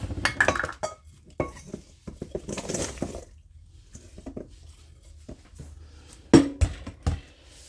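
Mixing bowls swapped on a kitchen counter while baking an apple pie, with a run of irregular clinks, clatters and scrapes of bowls and utensils, loudest in a few sharp knocks near the end, with quiet pauses between.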